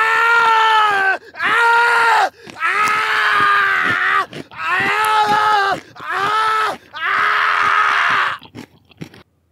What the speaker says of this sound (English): With the sounds of crushing bones and screams filling the air